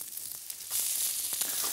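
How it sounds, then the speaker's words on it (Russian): Shrimp, bean sprouts and peppers sizzling in a hot pan for Chow Mein, a soft hiss that swells louder midway with faint stirring taps, no voices. "Вот теперь все это сейчас у меня жарится"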